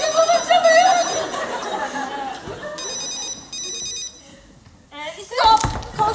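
A telephone bell rings in short repeated bursts, loud and near, broken by a door knock or slam and surrounded by people talking.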